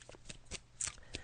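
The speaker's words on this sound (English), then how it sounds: "So I'm just shuffling the cards now, Sasha, as you can hear." Tarot cards are shuffled by hand in several quick riffling bursts, soft and close, with no talk over them.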